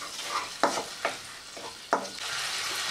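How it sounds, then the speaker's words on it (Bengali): Spice masala with sugar and water frying in a pan for vegetarian aloo potol dalna, with a steady sizzle broken by four sharp spoon scrapes as it is stirred. "এবার মশলাটাকে কষিয়ে নেব।"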